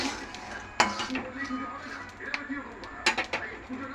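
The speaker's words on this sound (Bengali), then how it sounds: "নুনে ভাজছি। বাদাম খুব সুন্দর ফুটে" Peanuts roasting in salt in a pan give a close, busy rasp of grains shifting and scraping against metal, broken by a few sharper clinks of the stirring utensil.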